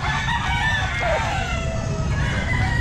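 A ten-month-old stag rooster at the Grotto pet market crows loudly in a drawn-out call over a steady wash of crowded market noise and other birds.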